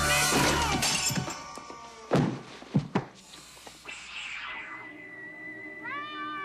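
A cat meows in a dramatic horror scene, with a sharp crash and shattering breakage early on, then several yowling meows rising and falling toward the end.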